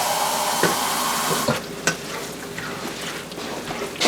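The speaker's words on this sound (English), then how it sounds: "Can you give me a little bit of water in this can?" Tap water runs into an emptied corn can in a kitchen while making a gluten-free, dairy-free tamale pie, a steady splashing stream with a few small metallic knocks.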